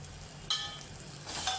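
Spice masala with Kashmiri red chili sautéing in a pan gives a soft, steady hiss that swells a little louder after a brief pause, close and continuous with no talking.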